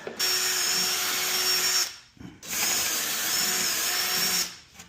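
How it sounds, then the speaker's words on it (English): A power drill drives carriage bolts into a wooden Adirondack chair during assembly, running in two sustained, loud whirring bursts separated by a brief pause, close up with no talking. "those carriage bolts are in and tightened up"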